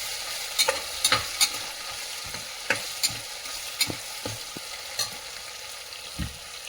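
Chicken biryani masala stirred and fried in a pan, a steady sizzle broken by a series of sharp spoon scrapes and clanks at irregular intervals, close and clear with no talking.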